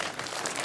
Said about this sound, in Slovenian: dajmo en aplavz za Kiro